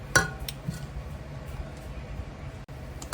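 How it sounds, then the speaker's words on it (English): Stove Top stuffing stirred with stock in a pot over low heat, a sharp clink of a utensil against the pot followed by soft intermittent scraping and tapping. "you're just gonna want to stir with the fire on low"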